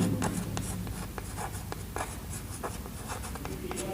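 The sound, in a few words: writing on the board during lecture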